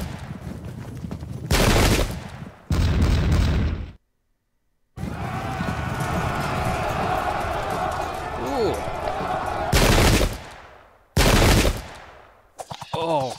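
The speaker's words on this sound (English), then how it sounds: "Oh, God, they're muskets." Musket volleys in the Pike and Shot strategy game, several sharp crackling bursts of massed gunfire separated by pauses, loud and close, mixed with battle noise.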